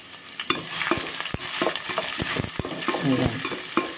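Sliced onion and green chilies frying in hot coconut oil with curry leaves, a steady bright sizzle broken by repeated scraping and knocking strokes of a stirring spoon against the pan.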